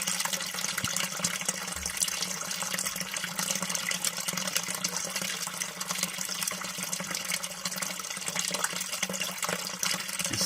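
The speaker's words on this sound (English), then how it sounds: "See the water running in." Water pours steadily into a sump pump pit with a good, strong flow, a continuous rushing splash that holds at an even level throughout with no talking.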